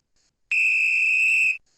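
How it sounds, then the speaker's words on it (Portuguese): A referee's whistle gives one sustained, loud, shrill blast of about a second to open a Brazilian women's football podcast, clean and close with silence around it. "Pode apitar, juiz."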